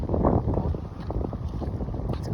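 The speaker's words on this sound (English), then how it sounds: "it's really windy" Strong wind buffets the microphone beside a frozen lake, a steady rough low roar with gusty surges throughout, loud and close.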